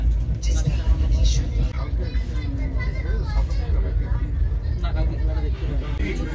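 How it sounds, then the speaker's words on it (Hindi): A 15049 Purvanchal Express passenger train running at high speed, with a steady loud rumble and rattle throughout, overlaid by someone talking. "देखिए दोस्तों हमारी ये ट्रेन तेज़ रफ्तार में दमदम जंक्शन को स्किप करती हुई"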